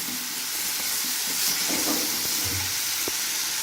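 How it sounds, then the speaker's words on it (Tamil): Pirandai (adamant creeper) sautéing in a pan for rasam, a continuous hissing sizzle with a few soft utensil knocks and clicks, close and fairly loud, with no talking. "நல்லா வதக்கிடுவோம். அந்த பிரண்டையில் உள்ள பச்சை கலர் சேஞ்ச் ஆகிறது வரை நம்ம வதக்கணும்."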